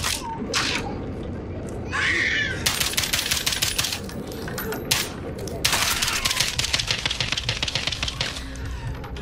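Gunfire from Call of Duty Modern Warfare rattles out in several rapid automatic bursts mixed with scattered single shots, loud and close, with short pauses between volleys.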